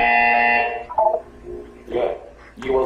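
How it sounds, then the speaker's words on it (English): A loud, steady electronic buzzer from the video game Portal 2 sounds for nearly a second, followed by quieter game voice and effects. "You will hear a buzzer."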